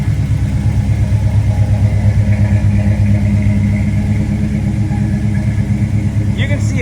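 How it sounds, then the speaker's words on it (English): A 1979 Pontiac Trans Am with a 455 engine idles nearby, a loud, steady low rumble with a slight rhythmic pulse. "Car sounds very, very well too."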